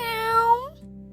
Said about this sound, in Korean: 고양이는 말없이 고개를 끄덕이며 부드럽고 조용한 소리로 울었어요